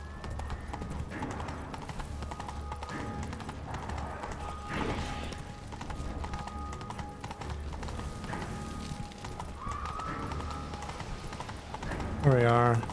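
The horse Roach galloping in a video game: steady clip-clop of hooves with a brief whinny, under talk and background music.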